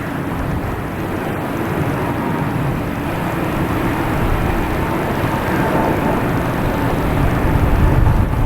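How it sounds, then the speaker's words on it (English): An American Airlines Airbus A321neo takes off at Boston Logan Airport, heard as a loud, steady broadband jet roar that builds gradually toward the end, with no voices. "That's the one taking off finally. A321neo."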